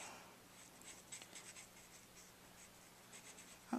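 A Copic marker with a touch tip lays a coat of BG70 colour onto paper in soft, repeated scratchy strokes, faint and close with no voices.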